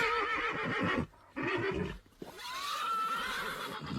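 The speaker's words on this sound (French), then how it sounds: "Et les chevaux paniquent." Panicking horses whinny and neigh in a French audio drama adaptation of Lovecraft's The Colour Out of Space, shrill rising calls in quick bursts separated by short gaps, loud and close.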